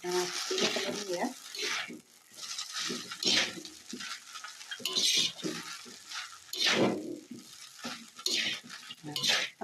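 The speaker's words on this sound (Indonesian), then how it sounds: "Selanjutnya saya akan aduk." Stir-fried rice vermicelli with egg and tomato is stirred in a pan, sizzling with repeated scraping and clattering strokes of a utensil against the metal in uneven bursts. Faint background voices can be heard.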